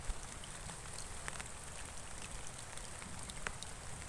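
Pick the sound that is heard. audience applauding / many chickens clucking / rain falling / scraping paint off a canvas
rain falling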